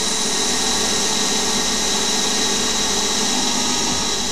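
CNC lathe threading brass at 3000 RPM, a loud steady high whine and hiss of the spindle and cutting, constant and close throughout.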